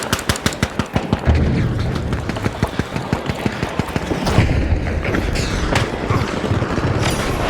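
Gunfire and explosions from the video game The Finals, with a frag grenade in play: rapid bursts of close, loud automatic fire crackle in quick rhythm, broken by a heavier boom partway through as shooting continues.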